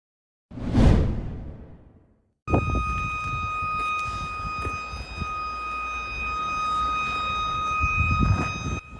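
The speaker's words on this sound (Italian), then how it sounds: "La sirena che suona dà inizio ad un minuto di raccoglimento per la tragica morte dello studente" A school siren at an art high school in Bagheria, Sicily, sounds a steady, sustained electronic tone marking a minute of silence, loud and unbroken, following an earlier rising whoosh of passing noise.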